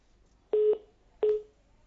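Two short electronic telephone keypad tones, evenly spaced, clear and isolated against near silence.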